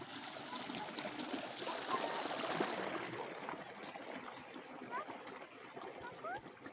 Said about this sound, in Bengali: এই যে দেখো পানি কত জোরে আসছে এখানে